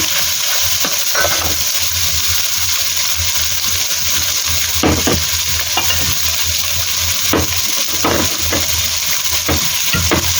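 Ginger, garlic and onion stir-fried in a pan, a loud steady sizzle with repeated scraping and clanking strokes of a spatula at irregular intervals, close up.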